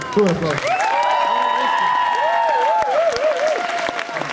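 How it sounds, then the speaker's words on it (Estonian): Loud applause at a school open-stage event in Estonia, with clapping under strong, wavering cheers and shouted whoops from the crowd, close and continuous throughout. "Suur aplausi."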